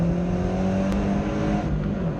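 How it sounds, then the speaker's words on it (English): Abarth 124 Spider sports car exhaust droning steadily at a constant pitch, loud and close throughout, with no talking over it. "that exhaust sounds sick"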